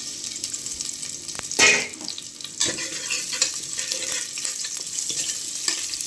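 A steady, loud sizzle of frying in hot oil with a sharp crackling burst as curry leaves are dropped in, stirring clinks underneath.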